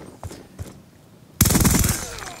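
Rapid-fire gunfire from the Chicom CQB in the video game Titanfall: a dense, loud automatic burst of about a second, following a few faint, soft thumps.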